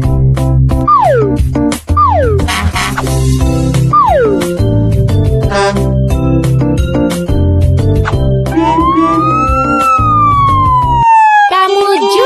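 An emergency vehicle siren wails loudly and up close in a highway traffic jam on a toll road. Rising and falling sweeps play over a busy, dense backdrop of music and effects, with no talk.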